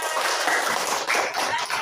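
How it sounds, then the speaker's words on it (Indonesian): Children in a primary classroom clap for a classmate, a brisk flurry of small hands patting close by, fairly loud and continuous for a couple of seconds. "Ya, tepuk tangan untuk Rafa."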